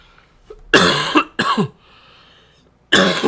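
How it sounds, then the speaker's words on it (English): Several harsh, throaty coughs from a lingering cough, close to the mic in quick bursts, a pause, then another cough. "I'm trying to shake this lingering cough, so I apologize for that"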